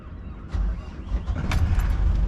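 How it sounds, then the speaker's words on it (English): An engine on a boat being readied to cast off cranks and catches, then settles into a low rumble that grows steadily louder over a couple of seconds, with brief clatter on top. "let's start the engine first, shall we?"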